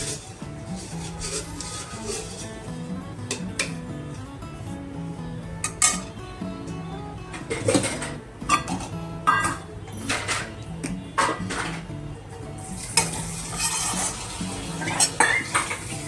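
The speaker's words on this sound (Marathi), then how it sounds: "आता हे आपलं खोबरं असं भाजत आलं आहे" Grated coconut roasting in a pan is stirred steadily with a metal spoon, close scraping and clinking against the pan over a faint sizzle, with heavier clatter toward the end.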